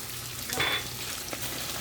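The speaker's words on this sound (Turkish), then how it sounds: "bir tatlı kaşığı veya bir yemek kaşığı salçamız, domates salçamızı ekliyoruz" Tomato paste hits a hot pan of cooking peas and sizzles, a soft steady frying hiss with a brief brighter crackle as it is stirred in, close and without talk.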